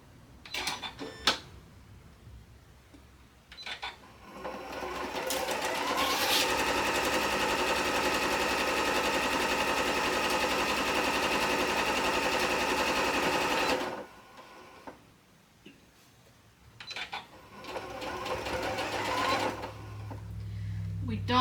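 A sewing machine stitches a quilt in one long, loud continuous run of about seven seconds, bracketed by shorter bursts and pauses, while someone talks in the gaps.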